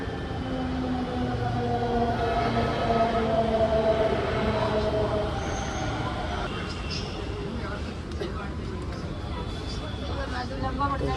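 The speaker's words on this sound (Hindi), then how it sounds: "गाइस आ चुकी है मेट्रो, अब चलते हैं।" A metro train rumbles and hums steadily on the tracks, with a low continuous roar and faint crowd chatter in the background.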